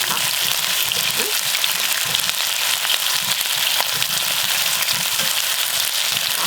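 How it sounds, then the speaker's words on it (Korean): Chicken drumettes fry in a shallow layer of oil for a soy-braised dish, giving a steady, dense sizzle with crackling pops that stays loud and even throughout, with no talking. "지금은 이렇게 자주자주 하면 기름에 튀겨지는 역할이 되는 거야"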